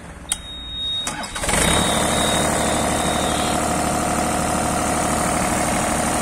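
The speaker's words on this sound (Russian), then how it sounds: "Так, сейчас мы заведем его." A used Yanmar VIO30 mini excavator's diesel is cranked with a few clicks and catches within two seconds, then settles into a steady, close idle that runs evenly to the end, with no speech.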